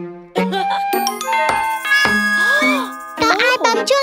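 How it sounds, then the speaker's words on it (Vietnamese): A doorbell in a children's cartoon rings with bright, chiming musical tones, followed by a voice and singing voices over a cheerful backing tune. "Có ai bấm chuông kìa mẹ ơi."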